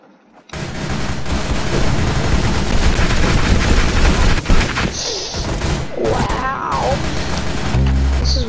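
Rapid, loud gunfire from the online shooter game Arsenal fills the clip in dense continuous bursts, with a reload clatter near the end and a player's voice talking over the action.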